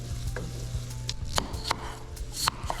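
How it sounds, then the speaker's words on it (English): Garlic cooks in a pan for fish chowder, giving a close, steady sizzle broken by a few scraping stirs of a utensil against the pan, with no talking. "Now, my garlic. We'll have that cook for about another minute."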